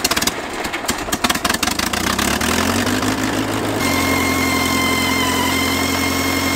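A three-wheel drive machine's engine cranks with rapid stuttering turnover, catches, and settles into a loud, steady idle with a constant droning hum close by.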